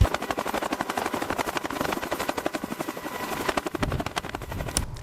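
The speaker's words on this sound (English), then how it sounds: "helicopters reached the mountains after 70 days of isolation" Helicopter in flight during a mountain rescue operation in the Andes, its rotor beating in a fast, steady chop that stays loud and close throughout, with no voices.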